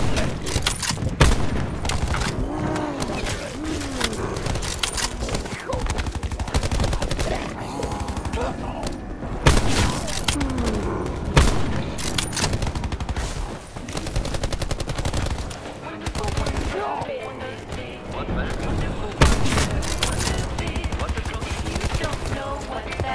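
Gunfire from the video game Call of Duty: Black Ops 4, with dense, continuous bursts of rapid shots and heavy booms that run loud across the whole stretch, mixed with other busy game effects.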